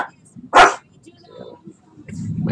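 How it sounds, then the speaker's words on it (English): A dog barks once, sharp and close, reacting to a nearby thunderstrike during a severe storm, followed by low rumbling noise and faint voices in the background. "My doggy barking because of the thunder there."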